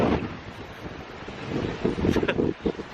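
Heavy wind buffeting the microphone, a constant low roar with gusty surges that grow rougher toward the end.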